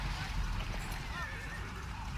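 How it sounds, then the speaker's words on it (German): A horse whinnies and hooves clip-clop amid dense Battlefield 1 game noise, with a voice talking over it. "Schau, der Pferd!"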